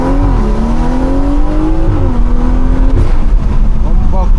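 A BMW engine revs and pulls hard on a back road, loud and close, with the pitch rising and falling through gear changes and occasional tire noise.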